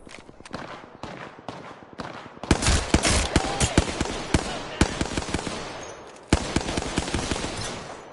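Rapid automatic gunfire in Apex Legends, with sparse shots at first, then dense overlapping bursts and volleys from about two seconds on, loud and close, with sharp single cracks standing out.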